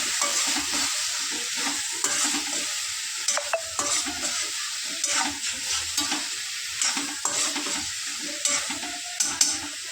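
Cauliflower and capsicum are stirred in a pan with coriander powder and turmeric, giving a steady hiss of frying broken by repeated scraping and tossing strokes of the spoon.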